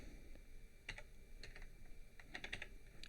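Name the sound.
typing a command on a computer keyboard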